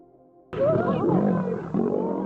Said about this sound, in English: Probably the most famous and common alpha male fight in nature, the lions.